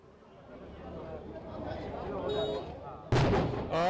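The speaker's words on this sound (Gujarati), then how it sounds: "અહીંયા અત્યારે ઉજવણીની શરૂઆત થઈ ગઈ છે, આતશબાજી કરાઈ રહી છે।" Celebratory fireworks at an agricultural market committee election victory in Unjha crackle in a sudden loud burst of bangs near the end, following a building murmur of crowd noise and voices.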